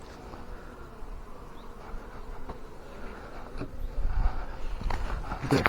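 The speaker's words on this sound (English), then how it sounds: "Still got 1, 2, 3, 4, 5 or 6 frames of bees still up here." Honey bees buzz inside an original brood box with several frames still covered in bees, a close, continuous droning hum that swells louder toward the end as the hive is handled.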